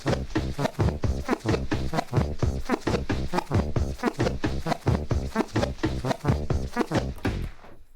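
A DJ drags a vinyl record slowly backward on a turntable with the fader open, producing a dense, continuous run of rhythmic scratchy pulses that stays loud throughout and cuts off abruptly at the end.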